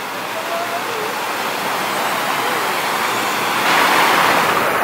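River water flowing at a resort, a loud close rushing wash with wind buffeting the microphone, steady throughout and growing slightly stronger near the end.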